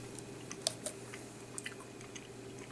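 Someone chews a chewable Flintstones multivitamin, producing soft, close, wet chewing and light biting clicks over a quiet steady background hum.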